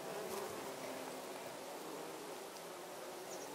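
Honeybees buzzing among lavender plants, a continuous close drone of wings with the pitch wavering as bees move, steady and unbroken with no voices.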